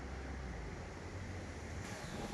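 Strong wind gusts steadily across an outdoor Chinese jujube orchard in Taiwan, a loud continuous roar with no talk, rumbling throughout and shifting slightly near the end.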